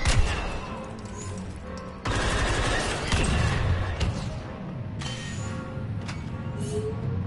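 Turret gunfire in Star Wars Battlefront 2: bursts of blasts and explosions crack through dense battle noise, with sharp impacts recurring every second or so, loud and close throughout.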